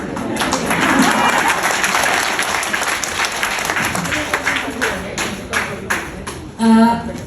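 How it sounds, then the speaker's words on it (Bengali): An audience at a foundation programme applauds, with loud, dense clapping that gradually thins into scattered claps. A brief voice follows at the very end. "একটু জোরেই তালিটা বাজাবেন যেন আমরা শুনে উৎসাহিত হয়ে যাই"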